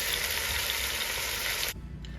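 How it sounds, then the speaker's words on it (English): Meat sears for birria tacos in a hot pan, a loud steady sizzle running close and unbroken before cutting off abruptly near the end, leaving a quieter hiss. "We want to sear all sides of your meat."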